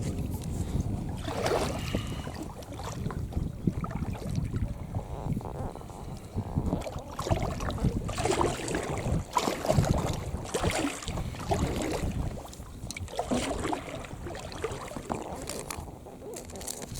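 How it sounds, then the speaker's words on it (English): A kayak paddles along the Stainforth and Keadby Canal, with steady rhythmic paddle strokes splashing through the water and a constant rush of wind buffeting the microphone. "my first paddle of 2024 in Kenny the Kayak"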